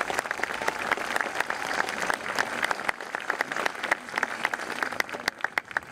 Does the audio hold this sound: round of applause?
yes